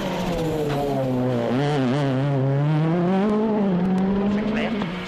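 Petter Solberg's works rally car, car number 4, runs a stage with its engine note rising and falling through gear changes, loud and close and continuous throughout, partly under commentary.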